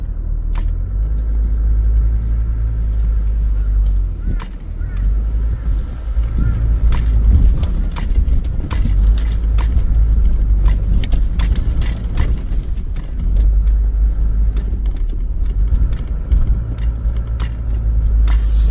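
A car rumbles past near a river during spring fishing, its low engine drone loud and steady across the whole stretch, with faint outdoor noise and scattered clicks above it.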